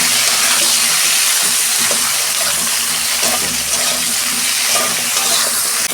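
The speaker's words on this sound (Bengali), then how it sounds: "ঢ্যাঁড়সটাকে আমি একটু লাল লাল করে ভেজে নেবো" Okra fries in a pan with salt, a loud, close, unbroken sizzle with a watery hiss and light stirring textures running through the whole stretch.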